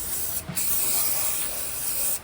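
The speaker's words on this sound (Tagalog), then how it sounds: "I-spray nyo lang siya na ganyan." Shine product sprayed onto a freshly washed car, a close, steady aerosol hiss lasting about two seconds with a brief break near the start.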